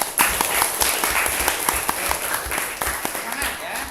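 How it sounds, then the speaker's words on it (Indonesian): A classroom of students claps for a few seconds after a short game led by their teacher, a close, busy patter of hands with a little talk mixed in. "Jadi tepuk tangan dulu untuk kita semua."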